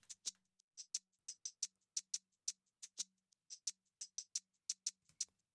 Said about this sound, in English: I cut up this tambourine loop,